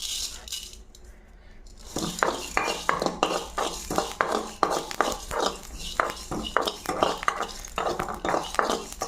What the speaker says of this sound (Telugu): ఇప్పుడు జీలకర్ర, మెంతులు వేయించి పొడి చేసుకొని పెట్టుకుందాం.